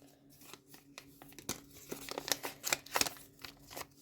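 A small blue paper packet is torn open by hand, with quiet crinkling and sharp tearing rustles in irregular bursts, close and soft, with no talking.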